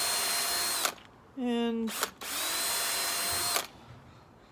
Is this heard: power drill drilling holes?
yes